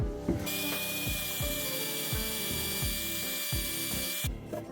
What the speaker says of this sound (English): Let's go ahead and sand this one down.